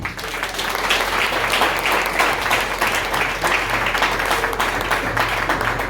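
A church congregation at an annual conference applauds in a sustained, dense burst of clapping that holds steady throughout, with no voices standing out.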